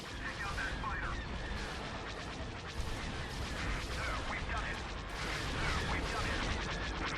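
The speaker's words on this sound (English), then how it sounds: "Firing a lot of little concussion missiles at them." Concussion missiles launched in Empire at War, heard as a steady flurry of rapid, crackling blasts and whooshes stacked over a busy space battle din, with someone talking over the action.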